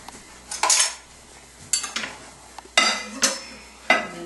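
Milk and chili paste being mixed in a bowl: several sharp scraping, clinking strokes of a utensil against the bowl in irregular bursts, with quiet pauses between.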